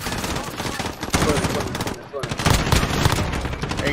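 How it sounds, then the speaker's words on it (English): Rapid automatic gunfire in Call of Duty Modern Warfare on the Hardpoint Shipment map, with dense bursts of shots and a brief lull midway, while a player talks over the action. "Keep shooting there."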